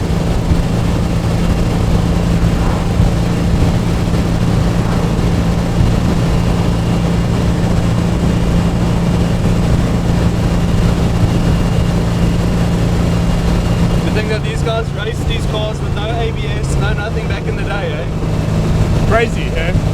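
A 1955 Porsche 550 Spyder replica with a 356-derived motor drones continuously while being driven, a loud steady low engine note with wind roar, the tone shifting near the end as people talk over it.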